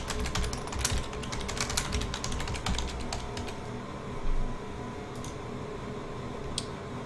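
Close computer keyboard typing in rapid bursts of clicks, thinning out to a few scattered keystrokes toward the end, with no voices.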